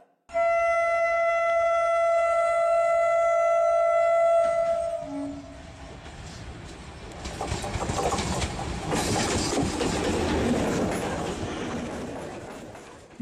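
A train running on rails between Durgapur and Bardhaman, heard first as steady tonal hum with whine, then a rougher rumbling clatter of wheels that swells and fades over the ride.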